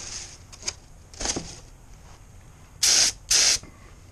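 Two short bursts of aerosol spray paint hit a Yamaha Virago cafe racer part, each lasting about half a second, close and loud, with a few faint clicks and handling noises before them.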